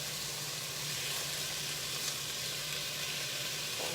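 A sweet and sour vegetable stir-fry sizzles loudly and continuously in a hot pan, a dense, even frying hiss with no talking.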